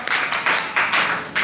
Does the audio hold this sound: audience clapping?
yes